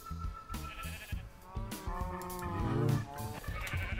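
Sheep bleat in the blocky video game Minecraft, with several wavering baa calls close by amid other farm animal noises.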